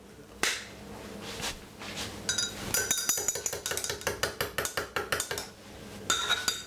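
Organic honey is stirred with a teaspoon into a lemon ginger drink in a glass, producing a rapid run of bright, close metal-on-glass clinks in steady rhythm after a few initial clatters.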